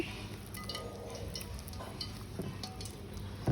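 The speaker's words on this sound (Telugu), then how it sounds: "కొంచెం ఒక గుప్పుడు వరిపిండి వేసుకోవాలండి" A handful of rice flour is stirred into batter, giving soft, close scraping and sloshing strokes at a quiet level, with faint clinks from the bowl and no voices.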